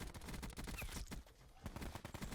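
Rapid automatic gunfire from a video game shooting match, rattling in quick repeated bursts that are loud yet slightly distant, with a short lull midway before the firing resumes.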